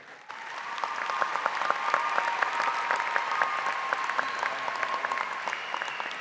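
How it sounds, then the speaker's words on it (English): A graduation commencement crowd claps together in sustained, steady applause lasting several seconds, with a faint tonal hum underneath. "Let's first start by giving them a big round of applause."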